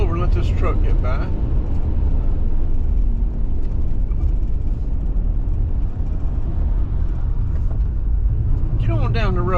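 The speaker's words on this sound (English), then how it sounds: "Let's pull over and let this truck get by." A heavy truck rolls past a car pulled over on the roadside, heard as a steady, loud rumble of engine and tyre noise that holds throughout with no clear rise or fade.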